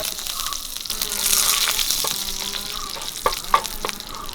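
Dried red chillies and curry leaves sizzle in hot oil for a Kerala pineapple pulissery, a steady fizzing hiss with a few sharper pops and crackles near the end, no voices.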